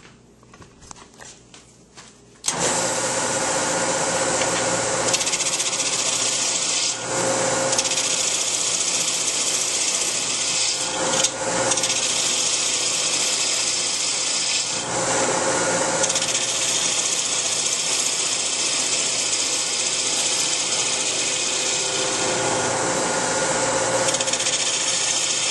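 Wood shaved to round the edges and thin the wall of a Christmas ornament: after a brief quiet start, a loud, continuous rasping scrape runs on without pause, with no talking.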